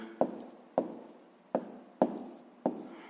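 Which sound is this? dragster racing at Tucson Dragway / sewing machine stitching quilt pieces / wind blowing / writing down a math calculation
writing down a math calculation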